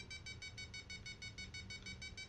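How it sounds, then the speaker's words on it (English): Glider variometer climb tone in Flight Simulator X, a rapid, even series of short electronic beeps at a steady rhythm, soft and continuous with no talk over it. "Those beeps are annoying, but at least you can tell you're climbing."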